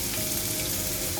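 Garlic paste frying in a pan over a medium gas flame, a short burst of thick, close, continuous sizzling without speech.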